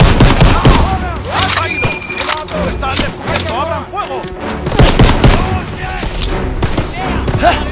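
Dense gunfire on a World War II battlefield in Call of Duty: WW2, with rapid bursts and overlapping single shots rattling continuously at close range, loud, while shouting voices cut through the battle.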